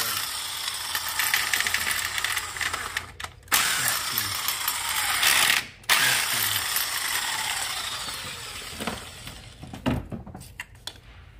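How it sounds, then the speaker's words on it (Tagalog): A small 1/4-inch drive ratchet with a 10 mm socket turning a screw on a Mazda6 SkyActiv engine during a belt tensioner and valve cover gasket job, rapid close clicking of the pawl over a constant background noise, with brief pauses. "Yung pinaka sulok na tornilyo ay gagamitan ko ng socket na maliit."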